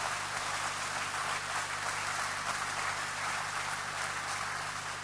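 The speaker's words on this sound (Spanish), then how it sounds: "Aplausos, chicos." A church congregation applauds, a fairly faint, steady wash of many hands clapping at a distance, even and unbroken over a low background hum.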